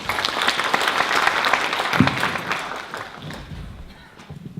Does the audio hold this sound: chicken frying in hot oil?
no